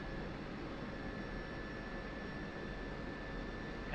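An F-16's jet engine settles toward idle during a cold start in the DCS flight game, heard as a steady, even roar with a thin high whine running through it, constant and unbroken throughout.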